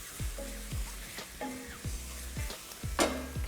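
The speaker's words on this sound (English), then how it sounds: "As I'm cooking these, I'm just scraping up all the brown bits from the bottom of the pan." Utensil scraping browned bits off the bottom of a hot pan while chicken and smoky bacon fry for pie filling, with several short strokes repeating over a steady sizzle.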